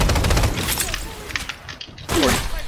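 Rapid gunfire bursts in the shooter game Strinova, dense and loud, with a short pause before another volley, mixed with game effects and a voice talking over it.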